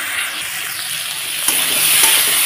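Fish curry masala with rohu-type bata fish sizzles steadily in a pan while being sautéed and stirred, a dense close frying hiss that thickens toward the end, with no talking.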